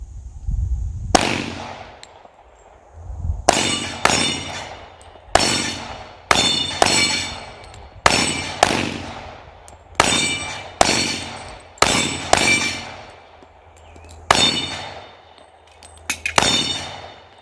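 Bullets strike the steel plates of a dueling tree target at an outdoor range: about a dozen sharp metallic clangs, each ringing out briefly, arriving in an uneven rhythm a second or two apart, loud and close.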